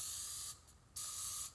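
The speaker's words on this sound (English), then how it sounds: "We're just going to spray" Cooking spray hissed onto a griddle in two short bursts, a close, steady aerosol hiss with a brief pause between them.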